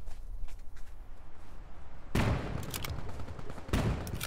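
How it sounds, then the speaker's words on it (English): Sniper rifle fire in Tip of the Spear: Task Force Elite multiplayer, with two loud, sharp shots about a second and a half apart over quieter background game sound. "The snipers sound awesome, guys."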